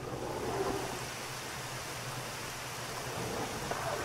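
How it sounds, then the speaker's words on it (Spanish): Steady rain falls outdoors in the video game Yume Nikki, a soft continuous hiss of broadband noise with a low rumble underneath, even and unbroken throughout with no voices. "Está lloviendo afuera por alguna razón."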